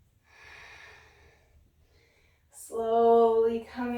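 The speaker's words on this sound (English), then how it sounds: "Deepening and lengthening your exhales to find balance." A long, soft, deep exhale through the nose comes during a vinyasa yoga flow, close and breathy. After a short pause, a louder voiced sound follows.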